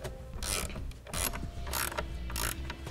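A ratchet tightens the mounting hardware of a Yakima BlockHead truck bed bike carrier, giving four rhythmic bursts of close, clicking ratchet sound with short gaps between them.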